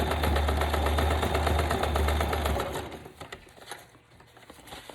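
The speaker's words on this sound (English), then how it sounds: "Don't even know if you can see the machine, but you get the idea. Just pretty much just sewing." A sewing machine stitches a paper pocket made with ephemera, running in a steady fast mechanical chatter for about two and a half seconds, then stopping, leaving fainter scattered handling clicks.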